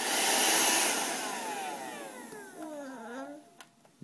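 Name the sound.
Shark vacuum cleaner running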